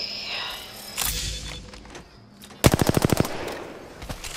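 An R99 submachine gun firing in Apex Legends: a few scattered shots, then a rapid, evenly spaced burst of about ten loud, close rounds, followed by fainter trailing shots.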